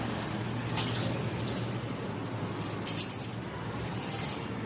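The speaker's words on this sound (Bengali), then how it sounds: "হাতটা ধুয়ে নিই।" Hands are washed under running water, a steady close hiss of flow with small splashes and clinks scattered through it.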